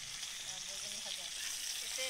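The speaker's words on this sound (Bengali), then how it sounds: "উনানে বাগুন ভাজা দিয়েছি" Steady hiss of eggplant frying over a clay stove, a soft, even sizzle heard up close, with faint voices in the background.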